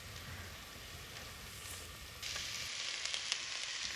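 Carrots and cabbage stir-fry in olive oil, a continuous soft sizzle that turns brighter and louder midway as more vegetables hit the pan.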